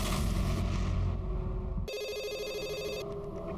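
Telephone ringing in a police office, a repeating electronic ring with bright harmonic tones that starts partway through over a dense music-like background, loud and close.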